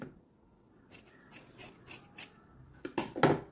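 Scissors cut straight through quilt fabric for a peacock quilt with a few quiet snips, followed by louder, closer crisp cuts near the end. No one speaks.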